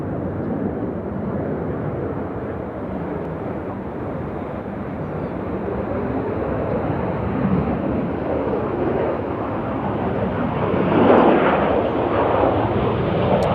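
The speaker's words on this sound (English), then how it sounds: "It says the CRJ 200 freighter about to land." A CRJ 200 freighter jet coming in to land at Nashville International Airport, a steady broad engine roar that swells slightly toward the end, heard from a distance with no talking.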